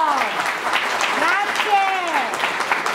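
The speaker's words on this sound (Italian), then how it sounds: "Un bel applauso!" Applause from a small family gathering, a brisk patter of clapping, while higher voices or whistle-like tones rise and fall over it.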